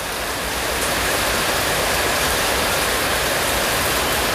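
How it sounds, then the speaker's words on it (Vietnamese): Heavy rain pours steadily at a bonsai garden, a dense, loud, even roar that fills the whole moment without pause or voices. "Mưa quá quá chú."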